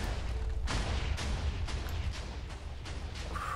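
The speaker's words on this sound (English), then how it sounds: "Oh god, the house. It's just explosions." Loud, repeated Minecraft explosions boom one after another over a constant heavy rumble, with sharp blasts every half second or so and no voices.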